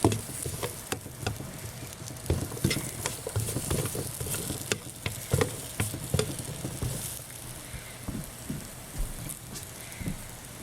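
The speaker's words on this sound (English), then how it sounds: "I'm going to stir fry the ginger" Ginger browning in a dry pan with no oil, tossed and stirred in a run of irregular patters and scrapes over a steady hiss, close and moderately loud, with no voices.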